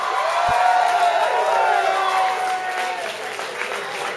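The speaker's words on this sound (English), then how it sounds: "Y'all make some noise for Charo Beans DeBarge." Audience applause with cheering and whoops for a performer being introduced at a stage show, a dense, steady roar of clapping that holds through the whole stretch and eases off slightly toward the end.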